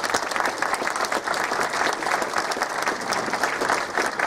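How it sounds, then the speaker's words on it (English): Audience applause fills a room at a political gathering, dense steady clapping from a sizable crowd sustained at even loudness throughout. "She deserves your round of applause."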